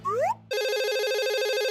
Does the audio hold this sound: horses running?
no